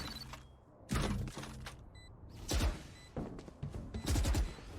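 Gunfire in the video game Valorant during a competitive match comes as several sharp, loud shots and bursts spaced unevenly over a few seconds, close and punchy.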